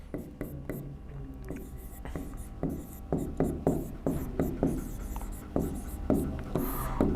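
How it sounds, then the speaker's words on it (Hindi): Pen or marker strokes scratch across a writing surface as a teacher jots down notes, giving a series of short rhythmic scrapes at close range, with soft voice sounds in between. "यहां लिख लेते हैं।"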